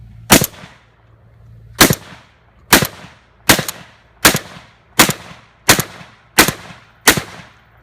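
A Mossberg 930 JM Pro semi-automatic shotgun fires nine sharp, loud shots in a steady rhythm about one second apart, each blast ringing out briefly, with no talking.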